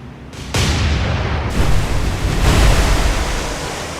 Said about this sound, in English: Front guns firing again